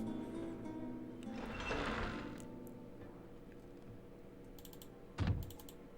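Rapid, frantic clicking of a computer mouse or keys during a Quest for Glory V PC game session, a dense run of small ticks under faint game sounds with a brief louder thump near the end.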